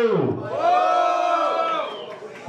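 A crowd at a rap battle in Londrina cheers and shouts as a vote for the MC Kali, with a sustained swell of voices and whoops that rises, holds for about two seconds and then fades.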